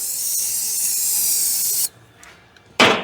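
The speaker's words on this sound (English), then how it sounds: "Let me spray it with this here." A loud, continuous aerosol spray hiss of cleaner for about two seconds, a brief pause, then another short burst of spraying, close up, on a 1965 Chevrolet C10 pickup.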